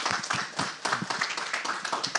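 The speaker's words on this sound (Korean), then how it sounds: "교수님 말씀 다시 한번 박수 부탁드립니다" Audience applause after a professor's talk at a finance forum session in Jeju, a steady stream of many overlapping claps at moderate level, close and continuous without speech over it.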